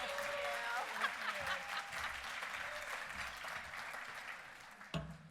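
Moderate applause from a breakfast summit audience, a soft continuous patter of many hands with a few brief voices or cheers mixed in, fairly distant and steady.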